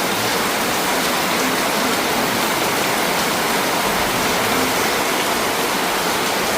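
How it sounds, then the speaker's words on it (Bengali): Heavy rain pours down outside on a cold day, a loud, steady, unbroken roar of falling water with no voices. "দেখো এই ঠান্ডার মধ্যে বাইরে বৃষ্টি চালু হয়ে গেছে"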